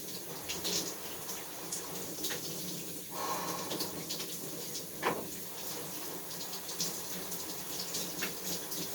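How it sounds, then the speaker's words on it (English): A bathroom tap runs in a quiet, continuous stream during face washing, with faint splashes and brief shifts in the flow and no talk. "I'm gonna wash my face."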